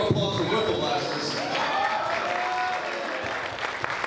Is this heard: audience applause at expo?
yes